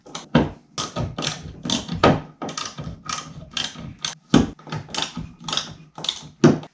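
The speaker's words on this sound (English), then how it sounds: "Finish her off with the screwdriver." A screwdriver drives mounting screws into a kayak mount with a steady series of close, rhythmic ratcheting clicks and turns, loud and without talk.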